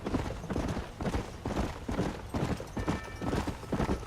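Horse hooves gallop in a steady, rapid rhythm in Red Dead Redemption, loud and close throughout with a faint whinny-like tone near the end.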